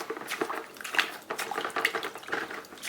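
Aquarium filter sponge from a saltwater tank being squeezed and rinsed in siphoned tank water, a close, continuous wet sloshing and squelching with soft splashes.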